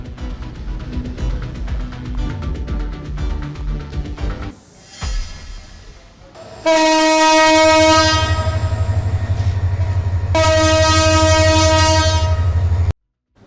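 A train packed with homebound Eid travellers riding on its roof sounds two long, loud horn blasts over a deep rumbling engine, following a stretch of clattering rolling-stock noise.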